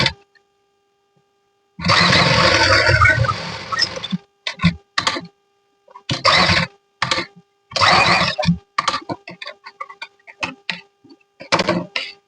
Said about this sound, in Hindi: तो चलिए हम इसके ऊपर सिलाई लगाते हैं फिर से।